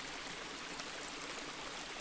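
Spring water from a hilltop marsh spring in Rold Vesterskov runs freely downhill toward Lindenborg Å, a steady, even rush of flowing water close by, with no voices.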